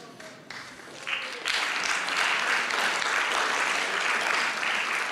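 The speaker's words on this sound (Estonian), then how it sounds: "See nüüd ei ole küll aplausi väärt" Audience applause starts thinly and swells after about a second into full, sustained clapping from a crowd, loud and even, continuing to the end with no voices on top.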